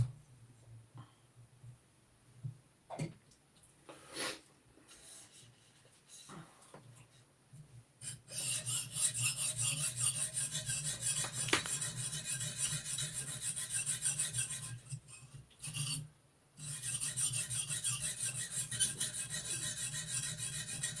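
A knife edge being sharpened by hand during a live sharpening session: scattered light scrapes at first, then long sustained rasping strokes with brief pauses, close and fairly loud.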